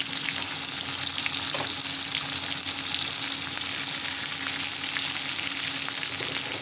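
Chopped garlic, ginger and onion frying in hot oil in a pan, a dense, even, close sizzle holding steady throughout with faint crackles and no voices.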